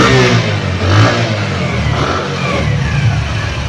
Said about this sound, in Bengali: এবারে অ্যাক্সিলারেটর দেয় ইঞ্জিনের সাউন্ড